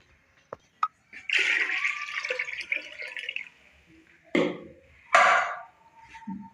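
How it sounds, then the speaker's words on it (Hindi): About three litres of water poured into a soup pot with salt: a few small drips, then a sustained splashing pour, followed by two short sharp splashes and faint clatter. "ये 3 लीटर मैंने इसके अंदर पानी डाला है।"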